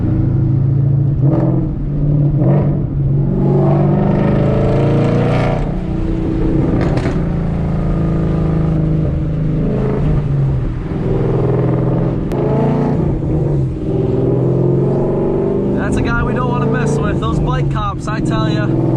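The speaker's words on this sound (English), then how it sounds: "I'm driving with my windows down." A Ford Mustang Foxbody is driven with the windows down, its engine rumble and wind rush loud and constant throughout, and a voice talks over it.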